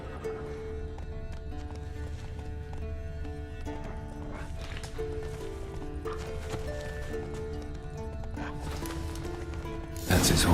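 A horse gallops in The Witcher 3 with rapid hoofbeats and a whinny over game music, ending in a sudden loud burst of noise.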